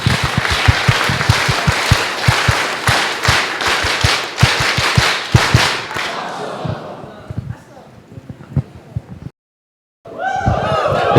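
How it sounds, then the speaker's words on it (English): An audience at a technology leadership summit claps loudly in rhythmic, punchy bursts for about six seconds, then the clapping thins and fades, followed by a brief silence and then a voice. "Could we give them an awesome clap?"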